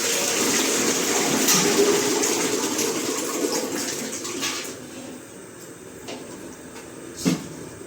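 Thick, wet pouring and splashing as a soft mass of vegetable mash (bhaji for pav bhaji) slides from a pot into another pot, with a gushing flow that fades out near the end and a brief clunk.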